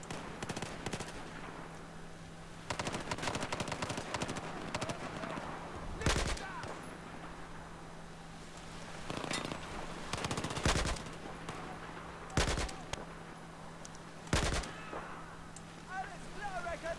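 Battlefield 4 gunfire in clustered bursts of shots, recurring every couple of seconds over a steady game background hum, with a player's voice talking in between.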